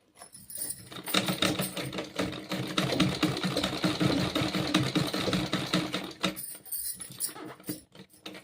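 A sewing machine stitches kurti fabric while a zip is attached, running in a fast, steady mechanical chatter for several seconds, with quiet pauses before it starts and after it stops.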